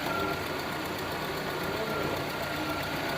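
Fiat Strada 1.8 pickup idling with a worn, growling gearbox and clutch trouble, a steady low mechanical rumble and whine heard close and continuous with no talk.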